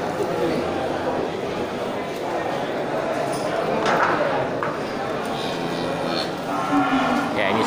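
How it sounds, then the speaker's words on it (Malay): Several cattle moo at a busy livestock market in Aceh, Indonesia, over a dense, noisy crowd of voices and commotion, with calls rising at intervals above the continuous background. "Ya, ini sapi"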